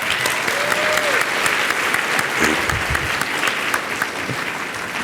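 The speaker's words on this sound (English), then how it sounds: "Let's hear it for Curtis" An audience claps steadily in a sustained round of applause filling the room, with a brief voice faintly audible beneath it.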